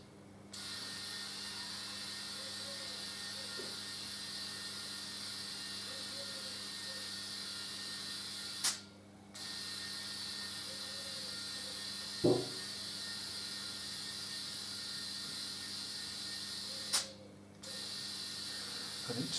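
Air hisses steadily through a cut-off air nozzle with gauge into the tyre of a Harley Davidson Deuce trike, a constant close hum broken by a few brief clicks and pauses.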